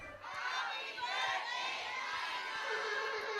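Guests at an 18th birthday party shouting a greeting together, a loud crowd of mixed voices holding steady for a few seconds.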